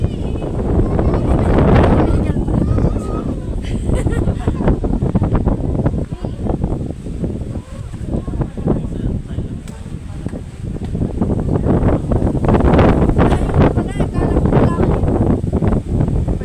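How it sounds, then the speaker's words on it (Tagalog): Strong wind buffets the microphone in loud, continuous gusts at People's Park in Tagaytay, with a person talking intermittently over the roar. "Kaya medyo mahangin, malakas ang hangin."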